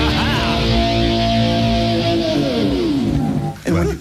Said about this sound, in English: It's this little box, again, about the size of a peanut butter sandwich.